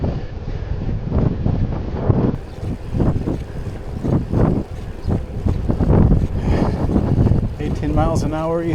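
A tailwind blows across a cyclist's microphone during the windy RAGBRAI ride, producing loud, continuous low buffeting and rumble that surges and eases throughout.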